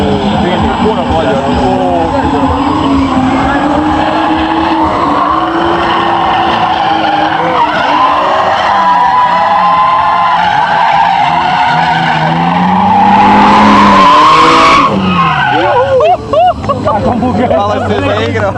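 BMW E36 cars drifting at the Croatian Drift Challenge at AMC Zagreb, with loud sustained engine roar and long tire squeal rising to a sharp screech near the end, while spectators and commentators talk throughout.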